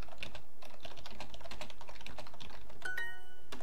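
Rapid typing on a computer keyboard fills the stretch with steady, close clicking keystrokes, while a brief electronic chime-like tone rings near the end.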